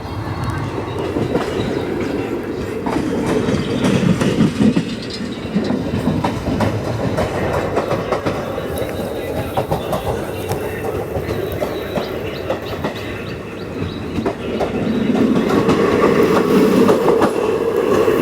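The Marathwada Express rolls on after departing Purna Junction, heard from inside a general class coach: a continuous rumbling drone with rhythmic clickety-clack of wheels over rail joints, swelling slightly louder near the end.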